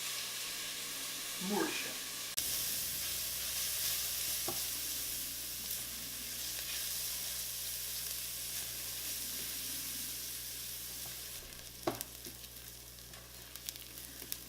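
Onion and garlic sauté in a pan with a steady, loud hiss and sizzle that carries through the whole stretch, with occasional stirring scrapes and a brief spoken word near the start.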